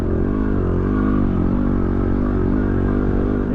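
A Yamaha WR250R motorcycle labours through soft desert sand in the Simpson Desert, its engine revving hard and steady with a droning, harmonic buzz that stays loud and constant throughout.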